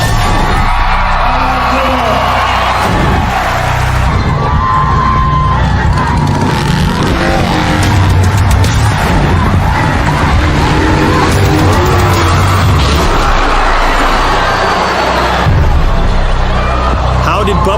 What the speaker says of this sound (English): Bubba Blackwell will attempt to break his own world record by jumping his motorcycle over 22 cars.